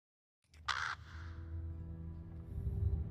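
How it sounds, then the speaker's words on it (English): A crow caws once, sharp and close, in the horror game True Fear: Forsaken Souls at a creepy high school, followed by a low, murky ambient drone that swells slightly toward the end. "And there's a bird."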